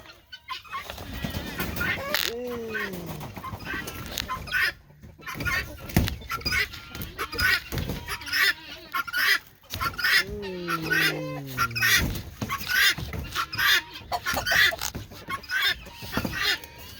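Guinea fowl and chickens honk and cackle in repeated bursts close by, with scattered squawks, and a person talks between the calls.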